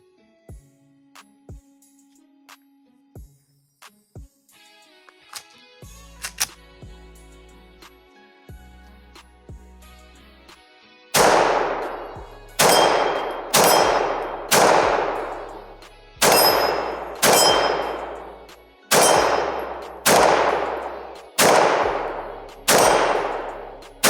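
A handgun fires at a range: about nine sharp, loud reports spaced a second or so apart, each ringing off into a decaying tail. Faint handling clicks and taps come before the shots.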